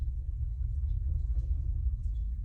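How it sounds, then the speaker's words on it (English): Distant thunder rolling as a low, steady rumble, continuous and fairly soft, with no sharp crack and nothing else prominent over it. "I hope you can't hear the thunder. Maybe you can."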